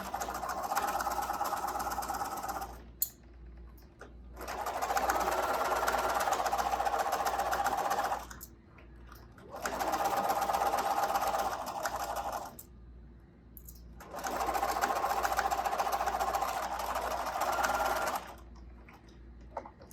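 A sewing machine stitches a fabric mask in three separate bursts of rapid, even whirring, each a few seconds long, with short quiet pauses between them; the running is close and moderately loud, and no one talks.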